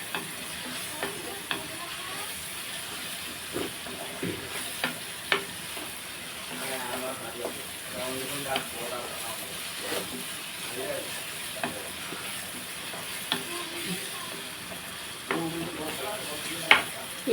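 Onions frying in a covered pan for an egg curry, with a steady close sizzle and occasional stirring scrapes, under faint background talk.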